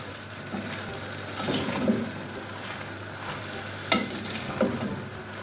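Cabbage being gently stirred in a pan with a spoon, soft scraping and clinks of utensil against metal over a faint background sizzle, close and unhurried, with no talk.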